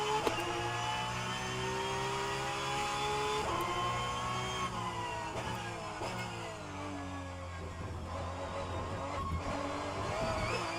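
A Porsche Cup race car engine in rFactor 2 drones and whines steadily, its pitch climbing and dropping through repeated gear shifts, with no talking.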